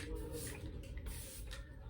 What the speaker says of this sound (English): sometimes I like to spray. I like to shake it, and then I just spray